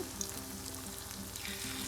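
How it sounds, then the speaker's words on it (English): A cabbage patty fries in oil, giving a close, steady sizzle and crackle throughout. "I drop it in the oil. I shape it a little bit and let it sizzle"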